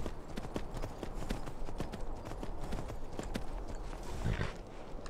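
Steady, rhythmic horse hoofbeats in Skyrim clip-clop at a trotting pace, close and clear, with a brief whinny-like sound near the end.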